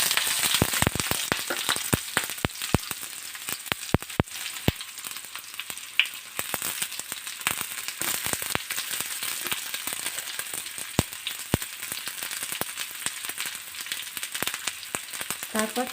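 Chopped onions frying in hot oil, a steady close sizzle with scattered sharp crackles and pops throughout, no voices.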